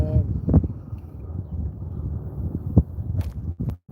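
Wind blows pretty hard from the north-northwest across a lake, a steady low rumble that buffets the microphone, with a few knocks and thumps.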